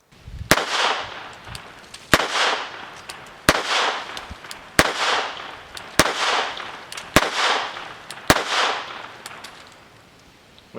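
A CZ 70 military surplus pistol in .32 ACP fired nine times at an uneven, unhurried pace. Each shot is a loud, sharp crack with a short echoing tail, and there is no talking between shots.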